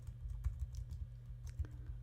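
Soft keyboard typing, a few scattered key clicks over a steady low hum, close and fairly quiet.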